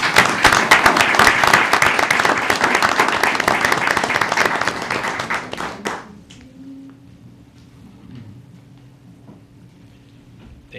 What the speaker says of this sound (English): let's give our staff a great round of applause.